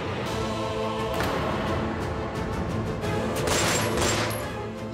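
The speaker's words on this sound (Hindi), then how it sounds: "भाभी ये तो गोलियों की आवाज है।" Gunfire crackles through a tense indoor scene at a lift, heard as a dense rumbling fusillade with scattered sharp bursts over a continuous noisy background, without speech.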